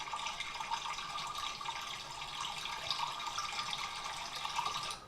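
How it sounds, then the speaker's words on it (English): Continuous rushing flow of water, like a running tap or stream, steady and fairly loud with no pauses. "if we click on sound effects and we put in here water flow"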